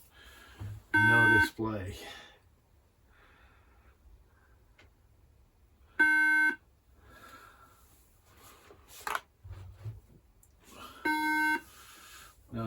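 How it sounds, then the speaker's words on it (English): A 2011 iMac with no RAM installed beeps at startup with three loud, identical electronic tones about five seconds apart. A faint fan whirs underneath, and a person speaks quietly between the beeps. "Fan spinning. Beeping."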